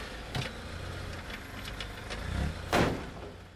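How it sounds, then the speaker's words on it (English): A car engine runs at a low, steady rumble, fairly faint and close, with a couple of brief louder knocks or bumps over the hum. "The sound of the car running on the road."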